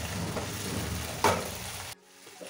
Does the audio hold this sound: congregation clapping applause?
no